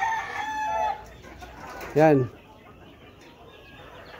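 Hens and roosters on a farm cluck and call in short bursts, with one loud crow-like squawk in the middle, while someone speaks nearby.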